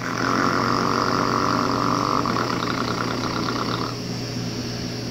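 A tractor engine runs steadily close by with a constant low rumble and drone, loud and alone, the tone easing slightly toward the end.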